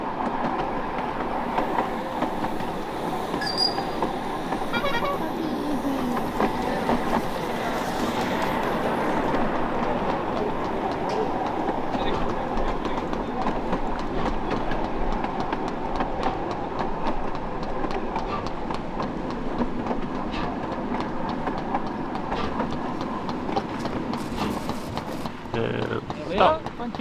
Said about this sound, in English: That was the train ride.